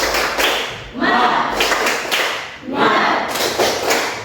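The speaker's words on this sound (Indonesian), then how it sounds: "Kalau gitu kita tepuk semangat dulu supaya tambah semangat." A group doing a rhythmic 'tepuk semangat' spirit cheer, bursts of unison clapping in a patterned rhythm with pauses between rounds, close and fairly loud, with voices chanting along.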